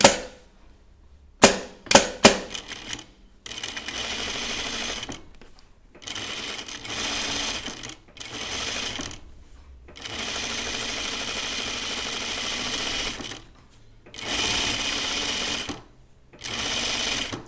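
A sewing machine runs stitching two parallel gathering rows on a caftan dress, in repeated loud bursts of rapid whirring separated by short pauses, with a few sharp clicks near the start.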